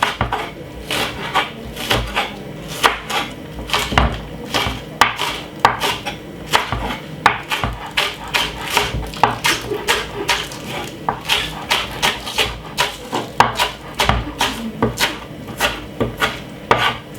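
Saltfish being chopped with a knife on a wobbly cutting board, a steady run of quick, close knife strikes and scraping thuds repeated for the whole stretch, with the board knocking as it rocks.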